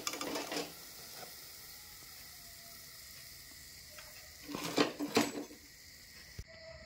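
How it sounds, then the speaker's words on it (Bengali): Fried bread snacks lifted out of hot oil, a low steady sizzle running throughout with a few sharp bursts of metal utensil scraping and clatter near the start and again toward the end, close by. "এরপর কিন্তু তেল থেকে ছেঁকে তুলে নিচ্ছি।"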